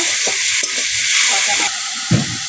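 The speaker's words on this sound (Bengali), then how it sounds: "কষানো হয়ে গেছে, জল তেল ছেড়ে দিচ্ছে" Spice paste frying in oil as the water cooks off, a steady close sizzle and hiss with a few stirring scrapes and one firmer knock near the end, no talking.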